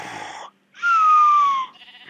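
Sheep in the Minecraft video game bleat in two short wavering calls separated by a brief gap, clear and close with no voices over them.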